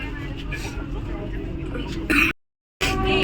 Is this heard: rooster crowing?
no